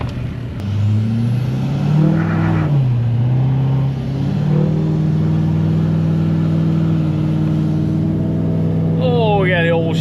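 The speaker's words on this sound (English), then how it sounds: "we got the old Chevy Silverado just pulling hard, boys" A Chevy Silverado pickup accelerates hard, its engine note climbing and shifting through gears in a loud, sustained roar that runs alone until a brief squeal near the end.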